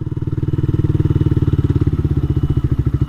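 Close, loud motorcycle engine during a ride, a rapid steady pulsing exhaust throb that holds an even rhythm throughout the short stretch, with no talking.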